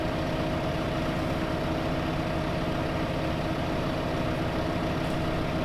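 Tractor engine in Farming Simulator 2015 driving at a steady top speed of about 40 km/h, a loud, continuous low diesel drone with a constant tonal hum and no breaks or voices.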